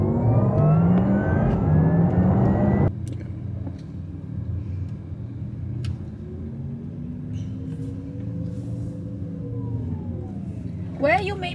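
A Porsche Taycan electric car driving, its smooth rising whine resembling an airplane, with a louder engine-like tone at first, then a quieter cabin hum with a gradually climbing pitch.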